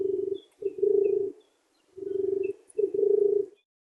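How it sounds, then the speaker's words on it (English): Pigeon cooing up close, four low, throaty coo phrases in a steady rhythm with short pauses between them, clear against a quiet background. "Yeah, so that is a pigeon."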